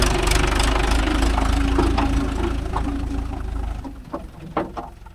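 Mahindra 575 DI tractor engine running on farmland, a loud, close, knocking diesel idle that drops away after about four seconds, leaving faint scattered clicks and rustles.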